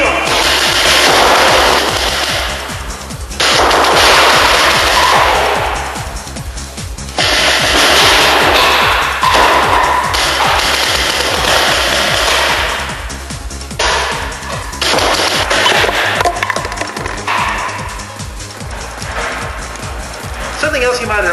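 A paintball marker fires around a bunker during play, rapid loud pops coming in bursts of sustained volleys with short breaks between, voices mixed in among the shots.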